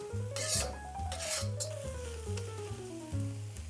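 A hot pan of bamboo and mushrooms sizzles and rasps as liquids are added, with bursts of scraping and stirring over a steady tone that slowly falls in pitch.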